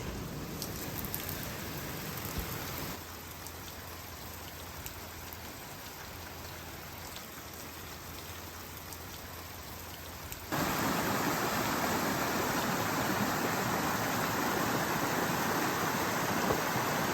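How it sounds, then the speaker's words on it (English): Steady rain falling outdoors on an off-grid workshop build site, a dense continuous hiss that grows noticeably heavier and louder partway through, with no voices. "Yep, I'd say we're getting some rain."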